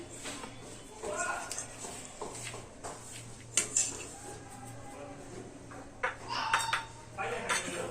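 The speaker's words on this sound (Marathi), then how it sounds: "आता हे आपण हाताने असं मिक्स करून घेऊया छान" Cooled ingredients are mixed by hand in a bowl, giving soft irregular clinks and scrapes with occasional sharper knocks, close by, while a person talks over the work.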